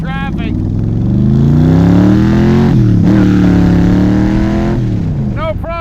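A 1965 Shelby Cobra roars loudly up close as it accelerates out onto a main road, its engine note climbing steadily through the gears with a brief dip at a shift, a voice sounding briefly at the start and end.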